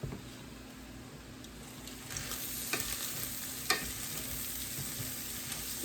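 Spaghetti simmering in a pot on a turned-down burner gives a faint, steady bubbling hiss, with a few soft knocks breaking through and no voices.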